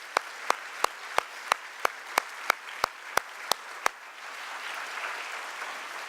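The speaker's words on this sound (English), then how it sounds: "Another round of applause for the musicians." A dozen sharp, evenly spaced claps ring out alone at a steady rhythm for about four seconds, like a slow single-person or unison clap for musicians at an evening concert event, then give way to a quiet room murmur.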